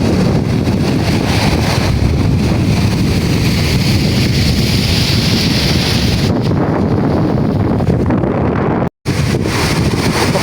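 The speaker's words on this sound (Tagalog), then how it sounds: "Sobrang lakas ng hangin." Loud, relentless wind buffets the microphone in a rice paddy with a roaring rush, water churning beneath it, broken only by a brief dropout near the end.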